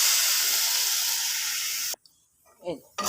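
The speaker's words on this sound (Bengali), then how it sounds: "তারপরে এই বেগুনগুলো এই যে সব দিয়ে দেবে বেগুনগুলো" Eggplant pieces dropped into hot spiced oil set off a loud, steady hissing sizzle that lasts about two seconds, then cuts off abruptly, followed by a brief voice and faint kitchen sounds.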